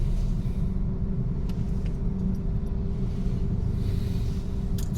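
Heavy city road traffic on the way from Pasig to Taguig, a loud steady rumble of engines and tyres close by with no break, heard from inside a vehicle.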